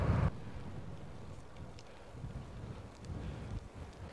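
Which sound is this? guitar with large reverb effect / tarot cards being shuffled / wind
wind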